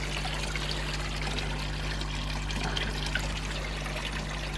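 Water is poured into an aquarium through a carbon filter to top it up, making a steady, even rush of liquid that runs unbroken throughout with a low mechanical hum underneath.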